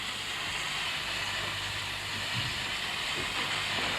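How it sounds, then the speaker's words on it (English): A steam train engine sends out a steady, loud hiss of steam as it pulls out of a station, with a low rumbling undertone throughout. "The engine driver whistled in cheerful response, and the train moved out of the station."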